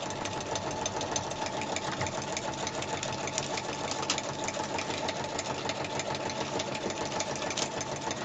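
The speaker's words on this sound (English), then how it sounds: "let me just sew this up quick" Home sewing machine stitching a file folder craft, a steady continuous whirring hum with fast even needle clatter running the whole time, close and without pause.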